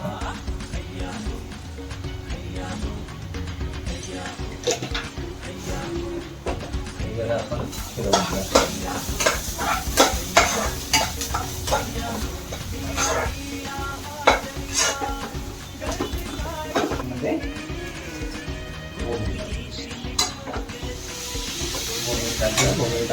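Malvani masala with dried bombil fish stirred in a hot pan: a steady sizzle and fry with repeated scraping and clinks of a spoon against cookware, close and continuous, with occasional faint voice in the background.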